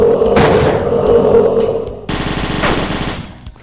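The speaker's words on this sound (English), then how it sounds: "a railgun at long ranges, a machine gun at short ranges, and fusion plasma shots." A commando enemy's machine gun in a DooM mod video game fires loud rattling bursts, one long roaring volley followed by a second rapid clattering burst, with no talk.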